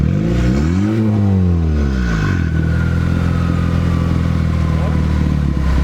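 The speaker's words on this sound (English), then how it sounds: "Hey, you gotta rev it." An Acura RSX Type S with a turbo and open downpipe revving hard, its engine note rising and falling in a sweeping rev, then settling into a rough loud idle with turbo hiss, a voice speaking over it.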